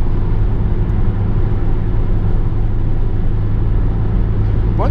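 Steady cabin drone and road rumble from a Ford Focus 1.6 TDCi cruising at about 160 km/h on a highway with worn tyres, a constant loud roar with a voice talking over it.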